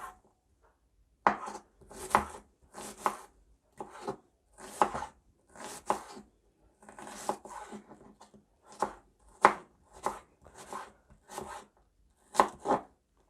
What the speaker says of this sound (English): I am now going to cut my onions.